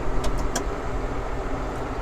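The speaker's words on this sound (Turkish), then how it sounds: "debriyaja bıraktık mı traktör gidiyor arkadaşlar" A New Holland T7.165 tractor's engine hums low and steady at close range as the machine moves off, a smooth mechanical drone with a couple of brief higher clicks early on and no talking.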